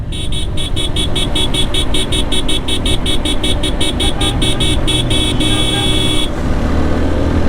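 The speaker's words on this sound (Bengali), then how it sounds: "আমি হর্ন দিতেছি," Suzuki GSX-R motorcycle horn honking in rapid repeated bursts on a road, loud and close over engine and traffic noise, ending in one longer held blast.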